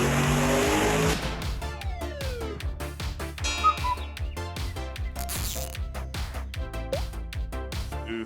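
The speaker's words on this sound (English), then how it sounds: "I feel a burnout coming on" A Chevrolet Camaro hot rod does a burnout, starting with a loud broadband roar, then settling into rapid, rhythmic engine pulses laced with squealing tires, fairly close and without talk.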